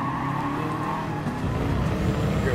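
A race car in GT Sport slides sideways with a continuous tire skid and squeal over a loud, steady engine roar, all close and sustained with no talking.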